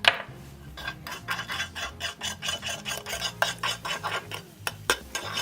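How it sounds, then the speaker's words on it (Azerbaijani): Tablespoon stirring baking powder into five spoonfuls of yogurt in a bowl, close rhythmic scraping and clinking strokes repeating steadily throughout, with no talking. "İçində, qatığın içində həll eləyirəm."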